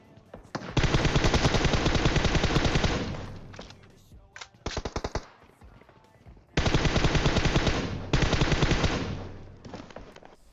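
Rapid automatic gunfire from a PUBG Mobile fight rattles out in two long dense bursts, with scattered single shots and a short volley in between, loud and close.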